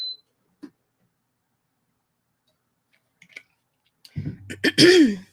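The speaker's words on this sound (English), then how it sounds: "Let me clear my throat." A few faint clicks, then a loud, close throat clearing near the end, rough and guttural, with near silence before it.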